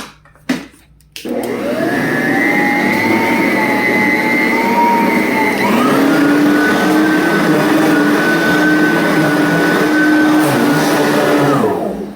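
A Goodwill-find vacuum cleaner with worn brush bristles starts with a click and runs loudly and steadily, its motor whine shifting pitch partway through as it pulls across carpet, with no talking.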